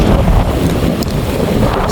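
Steady wind buffets the microphone outdoors while fishing for gourami and tilapia from a boat on open water, a constant low rumble with faint water movement and no talk.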